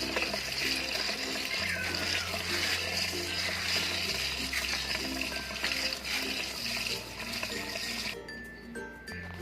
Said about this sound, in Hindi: अब आप धोना शुरू करते हैं।